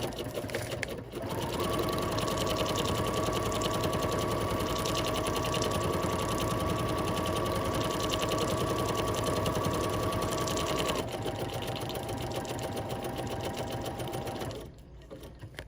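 A BERNINA 880 Plus sewing machine stitches an embroidery pattern with a steady, fast mechanical whir that runs loud and even for about ten seconds before stopping abruptly, leaving a quieter hum.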